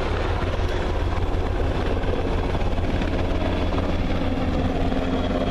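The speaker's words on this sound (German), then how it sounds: "Der Helikopter geht rein." German armed forces helicopter landing at a Bundeswehr open day in Faßberg, a loud, constant, close rotor and turbine roar with rapid blade chop filling the whole stretch.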